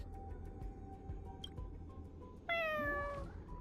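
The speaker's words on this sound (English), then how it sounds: "Meow." A cat in Honkai Star Rail gives one clear, drawn-out meow that rings out loudly after a stretch of quiet background ambience and then trails away.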